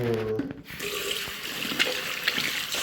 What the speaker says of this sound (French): je me rince les mains parce que j'ai les mains sales